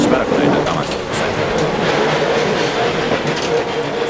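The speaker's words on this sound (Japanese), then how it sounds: "硬いと思っていると床下からモーターが響きます。" A Tokyu 8500 series commuter train, built in 1975, runs with a loud, steady roar from its traction motors under the floor, blended with broadband rail rumble and clatter throughout, with someone talking over it.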